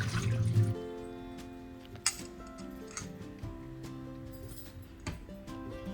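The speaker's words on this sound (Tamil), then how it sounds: "அதால் சும்மா பிசைஞ்சு நல்லா அந்த தவிடு போக பிசைஞ்சு கழுவி எடுக்கிறேன்" Flattened rice (poha) being rinsed and squeezed by hand in water, with soft splashing and dripping sounds, a louder slosh at the start and scattered wet clicks after, close by with no talking.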